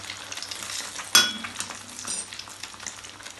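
Two eggs scrambled in white oil in a pan, with salt added, sizzle steadily up close. A sharp crackling burst rises just past one second, then settles into continuous frying with light stirring.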